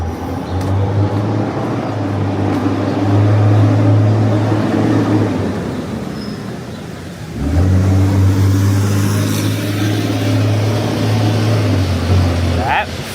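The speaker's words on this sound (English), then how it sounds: "that didn't sound like I've heard those FedEx trucks sound before" A FedEx delivery truck on a wet city street, its engine a loud droning rumble that swells as it passes close, dips, then surges again with a second strong pass, amid steady traffic noise.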